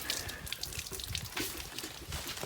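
Well water splashes and trickles into a bucket outdoors in a village, a steady close pouring rush with small drips, no voices.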